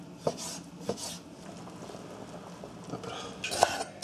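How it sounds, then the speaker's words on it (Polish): A knife cuts a chicken fillet into thin strips on a board for a Thai coconut chicken soup, giving a few sharp, spaced chopping taps with light kitchen clatter in between. "Kroję w cienkie paski."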